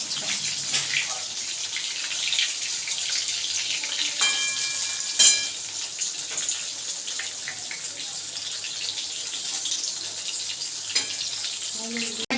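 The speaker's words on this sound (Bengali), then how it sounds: "একবারে লো ফ্লেমে আমি এই ফিশ ফিঙ্গারগুলো ভেজে নিলাম" Vetki fish fingers fry in oil over a low flame, giving a continuous close, bubbling sizzle that holds steady, with a few louder pops and crackles partway through.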